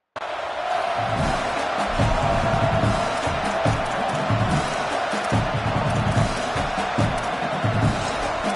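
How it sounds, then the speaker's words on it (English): A football stadium crowd roars steadily behind the defense on a big third down, a dense, loud, sustained wall of cheering and yelling that carries on without a break. "Big third down as the crowd gets behind this defense."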